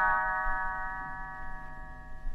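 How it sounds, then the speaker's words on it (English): A small bell chimes once on a children's storybook record, a bright clear ding with sustained ringing overtones that slowly fade, heard alone without talk. "You will know it is time to turn the page when Tinkerbell rings her little bells like this."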